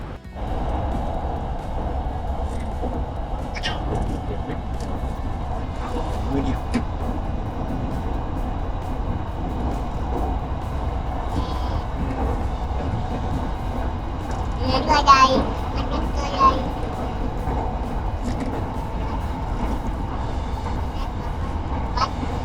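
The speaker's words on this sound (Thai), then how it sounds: "เดี๋ยวเรานั่งรถไฟฟ้ากัน" Steady rumble and hum inside a moving electric rail train in Bangkok, a continuous interior drone with faint clatter and a brief louder swell partway through, no talk.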